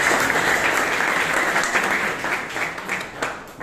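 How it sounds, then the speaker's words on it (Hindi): An audience at a motivational talk on entrepreneurship and self-employment gives sustained applause, a thick, even wash of many clapping hands that holds steady and fades slightly toward the end. "उनके लिए तालियां बजाइए।"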